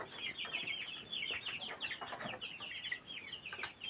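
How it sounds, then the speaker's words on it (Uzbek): Chicks cheep in a busy, overlapping chorus of high, thin peeps, close and fairly quiet, continuous throughout. "Mana jo'jalar."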